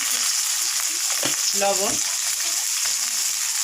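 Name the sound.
spices frying and being stirred in a pan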